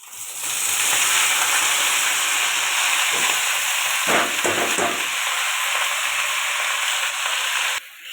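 Chopped onion, spring onion and spinach fry in hot oil in a pan, giving a loud, steady sizzle broken by a few stirring scrapes before it cuts off near the end.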